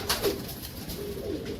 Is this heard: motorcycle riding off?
no